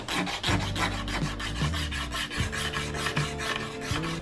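A hand file drags across wood and Bondo body filler, shaving off the high spots in steady repeated rasping strokes, loud and close with no talking.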